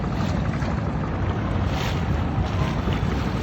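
A boat ride on the Buriganga river, with steady broadband water and wind rush around the hull, continuous and fairly loud, with no talking.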